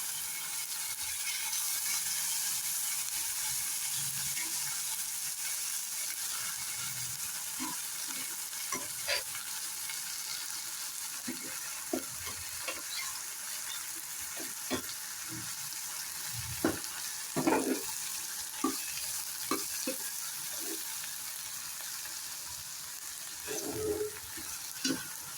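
Cooked horsegram is stirred into a frying onion tempering with salt, a steady loud sizzle running throughout with occasional scrapes and clinks of the spoon against the pan, close and without talk.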